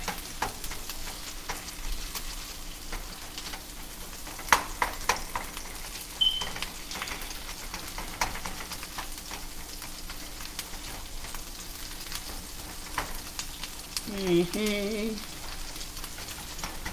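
Chorizo frying in a pan, a steady low sizzle running throughout with a few light scrapes and clinks as the meat is broken up.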